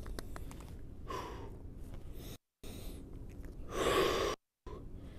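Heavy breaths during a prone banded lat pull-down exercise, two loud, close exhalations roughly two seconds apart, between brief silent gaps and with no talking.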